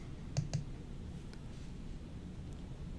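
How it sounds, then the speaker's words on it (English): A pair of quick, faint mouse clicks near the start while a computer user selects an app and presses its Edit button in desktop software, followed by quiet room hiss. "When I highlight the app and click the Edit button"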